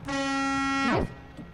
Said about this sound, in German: Das war hier, das Horn.